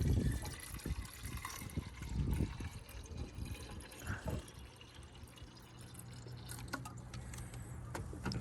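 Fluid poured from a bottle into an Infiniti Q60, a soft, steady trickling and gurgling fill that carries on throughout at low volume, with no speech.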